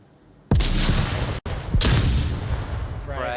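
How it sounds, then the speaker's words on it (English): A frag grenade and a flashbang go off in the VR shooter Onward, two loud close blasts about a second apart, each followed by a rumbling tail, with a ringing whine at the end. "Frag and a flash."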